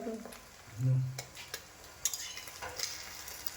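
Eggs frying and being stirred in a hot wok in a home kitchen, a brief sizzle burst followed by scattered scraping and utensil clicks against the pan, fairly quiet and close.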